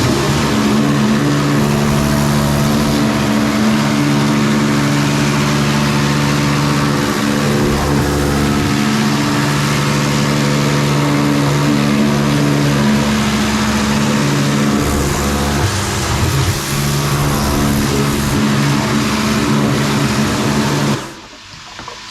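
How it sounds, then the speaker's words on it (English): A pressure jet washer blasts a stainless steel filter basket from a Nexus 220 koi pond filter, a loud steady hiss and drone with a motor hum running continuously and then cutting off near the end. "I stick it in there and I give it a jet wash, get all the rubbish coming out of there."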